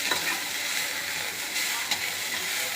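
Garlic and coriander leaves sautéing in a pan, a continuous even sizzle and hiss with a couple of faint stirring ticks, steady and close, no talk.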